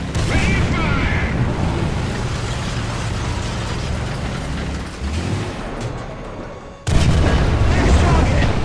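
A modified 120mm Rheinmetall tank gun fires in War Thunder with loud booming blasts and mechanical reloading clatter, a sharp renewed blast near the end after a brief drop in level.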